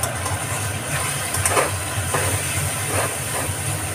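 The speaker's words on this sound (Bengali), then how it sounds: "মশলাটা কিন্তু আমি কষাতেই থাকছি। দেখেছো কালারটা কেমন হয়েছে? দেখো, তেল কিন্তু ভাজছে।" Spice paste frying in oil for a pomfret curry, a constant close hiss and sizzle with occasional stirring scrapes, no voices.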